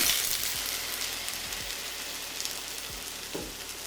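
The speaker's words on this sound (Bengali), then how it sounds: "তেলটা গরম হলে আমি মাশরুমটাকে এখানে অ্যাড করে দিচ্ছি" Mushrooms fry in hot olive oil in a pan with a steady, close crackling sizzle, broken by a few soft low thuds and a brief clink.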